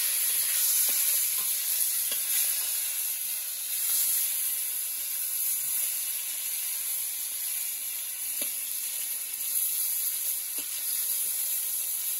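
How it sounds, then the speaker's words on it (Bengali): Pointed gourd pieces sizzle steadily in hot oil in a wok, a constant close bright frying hiss lasting throughout, with faint stirring clicks and no talking. "এবার হয়ে যাবে পটল ভাজা।"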